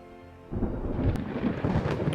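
Thunderstorm in the naval battle game Ultimate Admiral Dreadnoughts: a sudden loud wall of rumbling thunder and rain noise cuts in after a quiet musical start and holds steady, with a sharp crack partway through.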